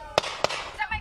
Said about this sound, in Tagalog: Magkasunod na umalingaw-ngaw ang mga putok ng baril sa isang tubuhan sa Santa Catalina, Negros Oriental noong linggo.